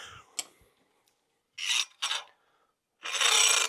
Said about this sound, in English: Now I'm going to go ahead and dig my dust seal out just with a screwdriver.